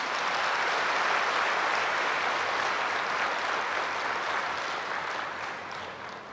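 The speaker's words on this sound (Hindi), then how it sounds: "तो एक बारी आप सभी अपने लिए जोरदार ताली बजाएंगे।" A large audience gathered for a spiritual talk claps loudly and continuously, a dense wash of applause that holds steady before easing slightly toward the end.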